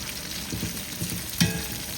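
Onions frying in a pan for a large hotel-style chicken curry, a steady low sizzle with soft rhythmic stirring scrapes and one sharper clink near the end.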